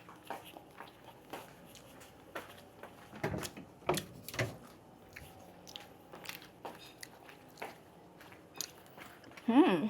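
Close, crisp crunching and biting as dried salted fish (tuyo) dipped in vinegar is eaten, irregular bites and chewing spread through a quiet room with small clicks and a louder crunch at the end.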